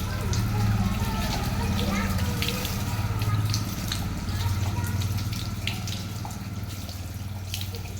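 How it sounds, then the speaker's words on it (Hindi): Tap water runs and splashes during wudu ablution while feet are washed, a steady flowing stream with intermittent splatter, heard beneath someone speaking nearby. "पानी बह जाना चाहिए।"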